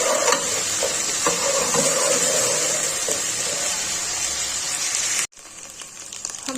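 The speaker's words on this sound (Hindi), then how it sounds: "पैन में मैंने ऑयल प्याज डाल दी है, साथ मैंने 1 चम्मच लहसुन अदरक का पेस्ट डाल दिया। अब मैं इनको फ्राई कर लूँगी।" Onion with garlic-ginger paste fries in oil in a pan, giving a steady, close sizzle with scattered spoon scrapes, briefly cut off near the end before the hiss returns.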